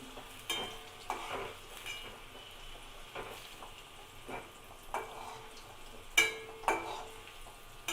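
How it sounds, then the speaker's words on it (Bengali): Potatoes frying in hot oil in a pan, a soft continuous sizzle broken by repeated scraping stir strokes roughly every half second, close and alone without talk. "আলুগুলো ভাজা হয়ে গেছে"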